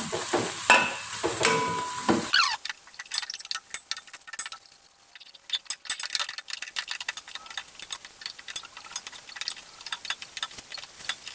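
A spoon stirs fish arsik with bay leaves, bruised lemongrass and lime leaves in a pan. Louder scraping and clatter at first gives way to quieter, irregular taps and a faint sizzle, close by, with no talking.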